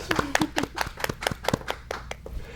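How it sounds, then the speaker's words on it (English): A small audience claps for Marcia the rabbit at a Humane Society of Vero Beach segment, a dozen or so distinct, sharp claps in a loose, uneven rhythm, close and fairly soft. "A nice round of applause, please, for Marcia the rabbit."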